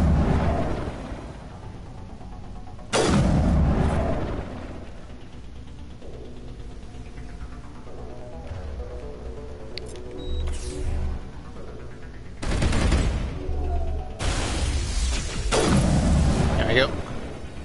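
Gunfire from the video game Mass Effect 1 arrives as a few loud, booming bursts, each lasting about a second, set against quieter game ambience while a person talks.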